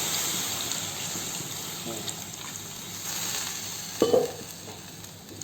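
Local chicken with added hot water and garlic paste bubbles and sizzles steadily in a pan, with a brief, louder stir or scrape near the end and little else over the constant frying hiss.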